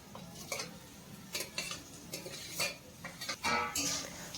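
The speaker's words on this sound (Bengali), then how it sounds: "এখন 1 মিনিট মতন ভালো করে এইভাবে লো ফ্লেমে একটু নাড়াচাড়া করে নেব" A utensil scrapes and clinks against a pan while radish and radish greens cook with potatoes over a low flame, giving irregular stirring strokes at close range with a faint sizzle underneath.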